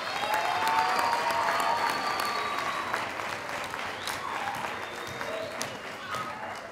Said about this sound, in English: Will you do that with your applause?